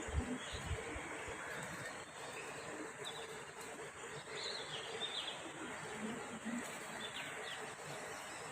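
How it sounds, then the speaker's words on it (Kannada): Birds chirping outdoors in a quiet natural setting, faint scattered tweets over a soft steady background hiss, with a few low knocks near the start. "ಚಿಲಿಪಿಲಿ ಅನ್ನೋದು ಬರ್ಡ್ಗಳ ವಾಯ್ಸ್ ತುಂಬ ಚೆನ್ನಾಗಿ"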